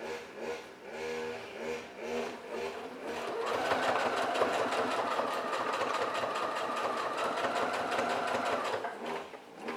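Singer Featherweight C240 sewing machine with a standard needle stitches through thick layers, a steady rhythmic whirr that speeds up into a fast, even stitching drone.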